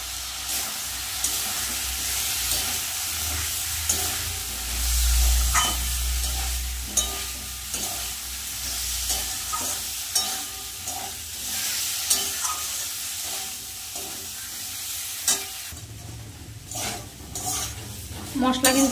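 Spice paste stir-frying in a pan with Kashmiri chilli powder, a loud continuous sizzle with repeated spatula scrapes and stirring knocks, close up, with a low rumble partway through.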